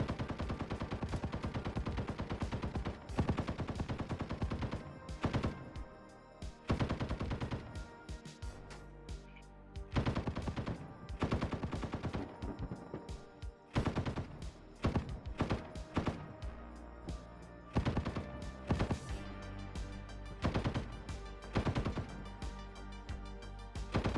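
Rapid bursts of 20mm autocannon fire from an armored fighting vehicle in Squad, repeated loud clusters of heavy shots with brief pauses between volleys.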